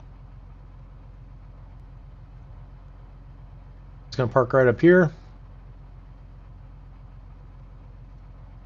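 A small aircraft's piston engine idles on the ramp at Las Vegas as it taxis in to park, a steady low droning hum throughout with a brief voice speaking over it midway.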